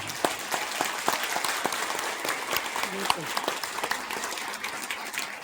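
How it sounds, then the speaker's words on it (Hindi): Audience at a Hindu sammelan gathering in Loni clapping together, a dense sustained patter of hands that fills the hall steadily for several seconds, with a voice faintly heard underneath. "एक बार जोरदार तालियां मैं चाहूंगा आप अपने लिए बजाएं"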